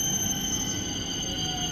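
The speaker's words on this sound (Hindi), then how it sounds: "आ गई हमारी मेट्रो" Delhi metro train pulling into a station, a steady high-pitched electrical whine and squeal with a low rolling rumble underneath, continuous and fairly loud.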